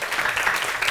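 Brief burst of dense clapping from a class of lower-secondary students, steady and fairly loud for about a second with no talk over it.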